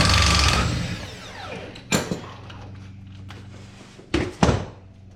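Bolts being removed from the brake of a 1966 Ford Galaxie 500: a close mechanical whir at first, then a few sharp metallic clanks and thunks of tools and hardware, spaced apart over a low steady hum.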